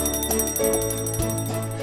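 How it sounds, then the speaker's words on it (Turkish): A historic bell that has served a commodity exchange since its founding rings in the trading hall to open the morning sale, giving a steady ringing tone with rhythmic repeated strokes throughout. "satış salonundaki görevlinin borsanın kuruluşundan günümüze gelen zili çalmasıyla satış başlar"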